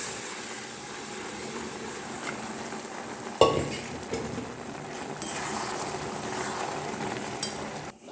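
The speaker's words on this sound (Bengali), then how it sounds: "দেখো ঘুগনি ফুটছে।" Ghugni, a dried pea curry with boiled peas and fried spices, simmering in a pan: a steady low bubbling hiss throughout, broken by one sharp utensil clatter against the pan midway.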